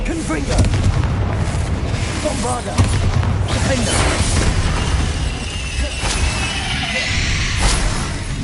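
Confringo blasting-spell explosions in the video game Hogwarts Legacy boom repeatedly, loud and close, with crackling impacts and shattering debris layered over dense game combat noise.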